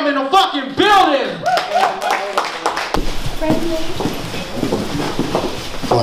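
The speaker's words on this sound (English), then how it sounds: "I want y'all to give a big round of applause" At a Sunday showcase rap performance, a loud voice calls out to the crowd, then dense audience applause and cheering swell up and carry on steadily to the end.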